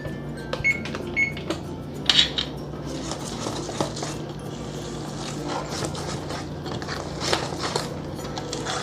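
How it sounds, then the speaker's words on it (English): Banana muffin batter whisked in a bowl, a steady close-up run of rapid clinking and scraping strokes that holds at an even level throughout. "And now I'm gonna whisk this in."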